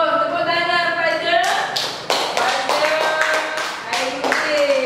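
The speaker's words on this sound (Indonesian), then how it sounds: "Tepuk tangan kepada" Classroom applause for a pupil, many hands clapping in a brisk, uneven burst that starts partway in and carries on to the end, with children's voices over the top.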